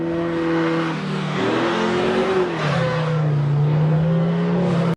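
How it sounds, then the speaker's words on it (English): A car engine revs loudly and continuously as the car slides through mud, the pitch dropping and climbing again as it strains, close and sustained. "Where you heard the engine revving and you saw the car like gliding in the mud"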